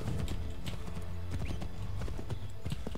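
Horse hooves clip-clop in a steady trotting rhythm within Assassin's Creed III, the game's ambient sound underneath, with a brief whinny-like tone mixed in.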